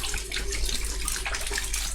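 Water poured over a body during a ritual washing of the dead, a steady trickling splash close by that runs without a break for two seconds.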